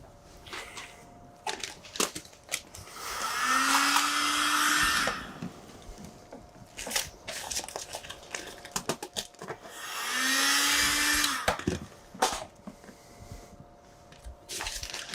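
A heat gun blows in two sustained bursts of roaring airflow, each several seconds long with a rising whine, while vinyl wrap film is heated on a car, with crackles and handling noises between bursts.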